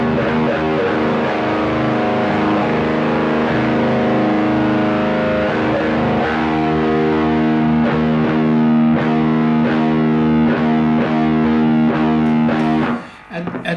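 Heavily distorted electric guitar played through a software amp model, loud sustained chords ringing for many seconds before a brief break of picked notes and a sudden stop.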